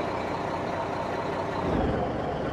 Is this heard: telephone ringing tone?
no